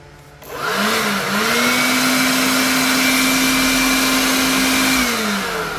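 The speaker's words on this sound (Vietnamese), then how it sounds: "Tốc độ thổi của nó rất là lớn luôn, con này cũng của Makita." Makita leaf blower, a large model, spinning up after a brief quiet start and holding a loud, steady high-pitched whine with rushing air for several seconds, no voices.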